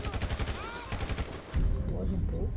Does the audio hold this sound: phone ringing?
no